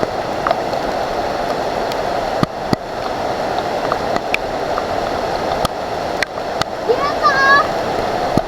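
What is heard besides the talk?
strong rushing mountain water on Mt. Banahaw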